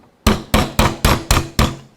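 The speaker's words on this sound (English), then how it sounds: "Next we'll be removing our stock band using our 3/16 punch and hammer." A hammer taps a 3/16 punch to drive the roll pin out of the stock band on a Daisy Model 1903 drill rifle, six sharp, evenly spaced metallic strikes, close and loud, each ringing briefly.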